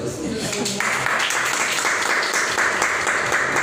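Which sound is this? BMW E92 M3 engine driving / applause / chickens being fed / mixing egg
applause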